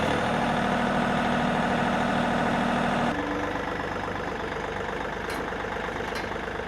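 A tractor engine runs loud and steady at close range, its low drone shifting to a slightly lighter idle partway through, with a couple of faint clicks near the end.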